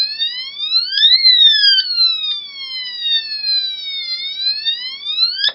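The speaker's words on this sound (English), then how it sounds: "fire engine." A loud electronic fire engine siren effect from a UM3561A sound chip sweeps slowly up and down in pitch, steady and continuous, with faint clicks scattered underneath.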